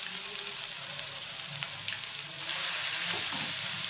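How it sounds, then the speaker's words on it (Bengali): Malabar spinach (pui shak) pakoras fry in oil with a continuous soft crackling sizzle, scattered pops and faint stirring, growing a little denser toward the end. "তো আমি এভাবে পকোড়া যতগুলো ধরছে আমি এগুলো দিয়ে দিচ্ছি।"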